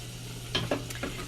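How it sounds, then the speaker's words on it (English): Ground meat for lasagna browns in a pan, a soft steady sizzle broken by a few scraping stirs of a utensil, close and without voices. "we're going to go ahead and brown the meat until it's completely cooked."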